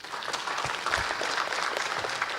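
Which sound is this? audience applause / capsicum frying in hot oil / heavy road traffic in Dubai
audience applause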